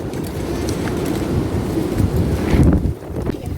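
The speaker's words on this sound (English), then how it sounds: "It's windy, very windy." Strong wind roars and buffets steadily around a plastic-covered high-tunnel greenhouse, a loud continuous rush with gusts swelling near the end.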